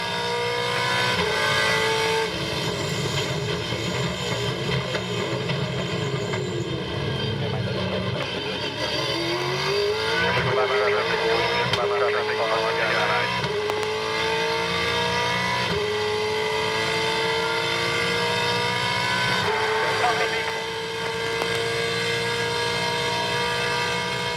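Loud, continuous engine roar heard onboard a V8 Supercar leading a race in Tasmania, with pitch climbing through the gears, dropping on downshifts and rising again in long sweeps.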